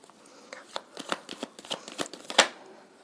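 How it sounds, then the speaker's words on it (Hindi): Tarot cards are shuffled by hand in a live reading, a series of crisp riffling flicks and soft slaps in an irregular rhythm, close up, with one sharp louder snap near the end. "आज मैं आपके सामने लाइव शफल करूँगी"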